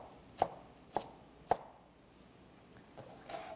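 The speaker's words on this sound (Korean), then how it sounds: "이렇게 자르신 뒤에 이것도 마찬가지로 작게 썰어주세요" Three sharp, evenly spaced knife chops on a cutting board while ingredients are cut small for a chicken dish, followed by quieter scraping taps.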